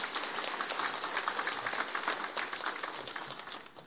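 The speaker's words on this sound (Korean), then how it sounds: "함께 박수를 격려할까요?" A church congregation claps in encouragement for the choir and its conductor, a faint, distant patter of applause that gradually thins out over a few seconds.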